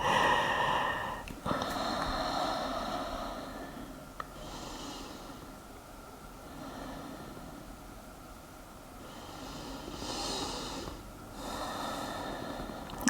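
Slow, deep breaths during a calm relaxation exercise: soft airy inhales and exhales rising and falling over several seconds, close and quiet, with a sharper snort-like breath near the start and no talking.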